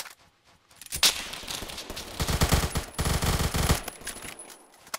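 Bursts of rapid automatic gunfire from a Kriss Vector submachine gun in the Roblox shooter Phantom Forces, loud and close, in several sustained strings of fast shots with short gaps between them.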